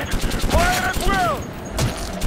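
Gunfire rattles in the video game Metro 2033, loud shots bursting near the start and again later, with voices shouting over the firing.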